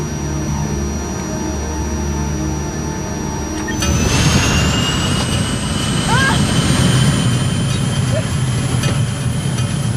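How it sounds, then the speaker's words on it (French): Airplane engine roaring steadily, then swelling louder with a rising whine as the aircraft dives, loud and close throughout. "l'avion plonge"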